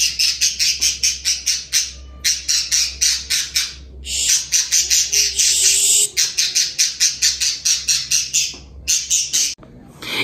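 Bird chirps near a window, loud and close, in rapid repeated bursts of sharp high calls broken by brief pauses, with a low steady hum beneath.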